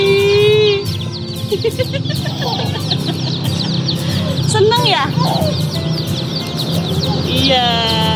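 Chickens cluck and squawk close by in a busy, noisy setting, with chirping birds and people talking in the background.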